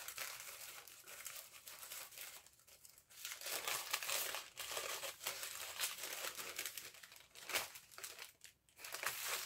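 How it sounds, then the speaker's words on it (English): Paper gift wrapping torn and crinkled open by hand, a continuous close rustling and crumpling with occasional sharper ripping bursts throughout. "See if I can unpackage without ripping."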